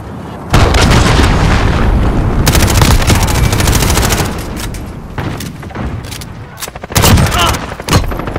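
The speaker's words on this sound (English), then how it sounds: "Allied cruise missile away." Cruise missile killstreak in Modern Warfare hardcore team deathmatch on the Rust map, loud booming explosions and bursts of automatic gunfire, dense at first then thinning into scattered shots and blasts, with game voice callouts.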